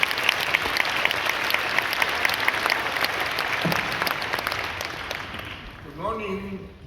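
A church congregation applauds to welcome a preacher, a sustained, fairly loud wave of clapping that tapers off near the end as a voice begins speaking.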